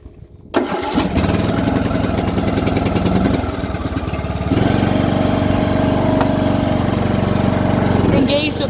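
A John Deere LA125 riding lawn mower cranks briefly and catches, its engine settling into a loud, steady close-up idle that rises slightly in level partway through and keeps running to the end.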